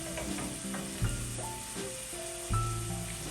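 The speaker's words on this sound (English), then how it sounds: "So he's going to cook the pancetta until all the fat has rendered" Pancetta sizzles and fries in a pan while bucatini all'amatriciana is prepared, a steady close crackle with a few stirring knocks and brief tonal sounds over it.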